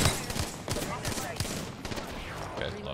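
Rapid gunfire in a first-person shooter, dense bursts of sharp automatic shots crackling close and loud throughout, with voices partly mixed in among the firing.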